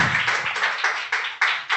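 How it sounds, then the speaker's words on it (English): Applause at an oral health talk in Malaysia comes in short bursts of clapping from a small group, swelling and fading several times over a couple of seconds, fairly close and moderately loud. "Please give them a big round of applause"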